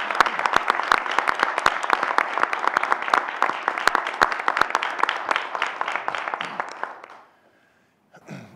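At a state senate news conference, a smaller crowd applauds veterans with close, distinct claps that thin out and stop, followed by a brief pause and a faint sound at the end.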